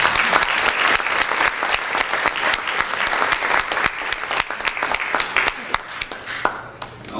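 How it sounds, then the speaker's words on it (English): A conference audience at a workplace event claps in a loud, dense round of applause, sharp individual claps standing out from the steady wash and continuing throughout before tapering slightly at the end. "Let's give these folks a big round of applause"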